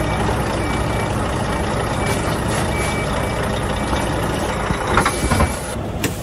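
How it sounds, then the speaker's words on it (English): A large truck engine rumbles loudly nearby while a faint, steady reversing beep repeats over it, with a brief clatter near the end. "Back that truck up."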